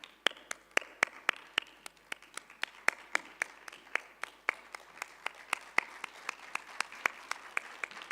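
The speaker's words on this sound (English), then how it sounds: "So give her a big round of applause." Audience applause at a conference plenary session, with crisp individual claps at a steady, fairly quick rhythm, close and moderately loud, with no talking over it.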